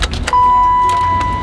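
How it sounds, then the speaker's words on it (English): A BMW E30 car turns over with a short starter whine and mechanical clatter, up close. After a brief whirring start the sound settles into a sustained tone with faint knocks. "Let's see if your car starts."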